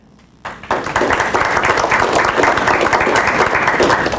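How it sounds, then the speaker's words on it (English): Audience applause breaks out after a brief quiet moment, quickly swelling into loud, sustained clapping from a large crowd that continues steadily. "Can I get a round of applause for that?"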